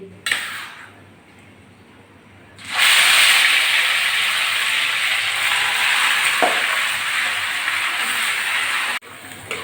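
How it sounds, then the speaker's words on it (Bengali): Marinated chicken drops into hot oil tempered with cinnamon and bay leaf, and a loud, steady frying hiss fills the air, near and continuous, after a brief quieter sizzle at the start. "তার জন্য তেলের ভিতরে দারচিনি আর তেজপাতা ফোড়ন দিয়ে দিলাম ম্যারিনেট করা চিকেনগুলো দিয়ে দিচ্ছি"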